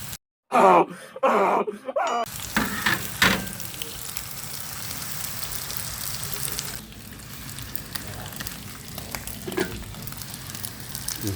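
Frog meat fries in its own juices for a frog adobo dish, giving a steady close sizzle and crackle that runs throughout after a few brief bumps and clatters at the start.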